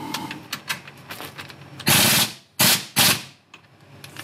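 An impact gun drives transmission mount bolts on a Toyota Landcruiser 80 Series, giving two or three loud, short rattling bursts near the end after quieter clicks and shop handling noises.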